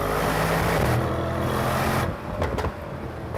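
A fast grand tourer sports car's engine roars loudly and steadily up close, then the note drops off abruptly and leaves a few brief rumbles.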